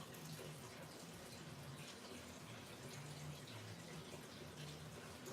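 Water pours steadily into a fish tank, a continuous rushing, splashing flow at an even level throughout, with no voices.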